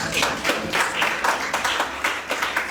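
A church congregation applauding the Lord during a sermon by the Prophet Abraham W. N'Got, steady rhythmic clapping from many hands, close and lively throughout with no voices standing out.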